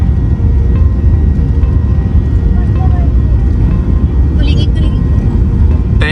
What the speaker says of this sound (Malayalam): take off ചെയ്തോട്ടോ